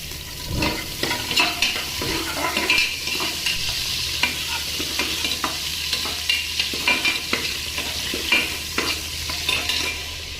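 Cashews and green chillies fry in oil for a chicken biryani, a loud, constant sizzle with rhythmic scraping stirs of a spoon in the pan throughout.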